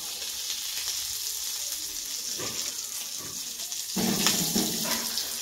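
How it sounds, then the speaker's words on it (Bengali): Potatoes frying in hot oil in a wok, a steady close sizzle throughout that swells louder near the end, with faint stirring and kitchen clatter. "আলুগুলো একটু ভাজা ভাজা হতে থাক"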